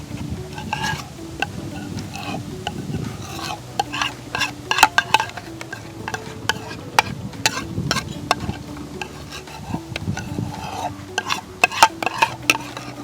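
A spoon stirs millet biryani gravy of paste, fried onions and cashews in a pan, giving steady scraping and clinking with a soft sizzle underneath, close and continuous.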